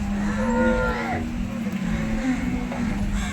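Cows moo at a cattle market, long low calls rising and falling close by, with other livestock calls and market noise around them.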